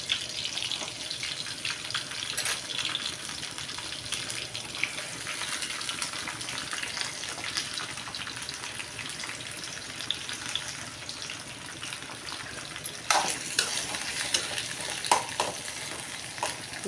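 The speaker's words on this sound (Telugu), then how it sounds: "ఇప్పుడైతే టమాటాలు కూడా వేసుకుంటున్నాను." Tomatoes frying in a pan for a home-cooked curry, a steady soft sizzle with faint stirring and scraping, fairly quiet and continuous throughout.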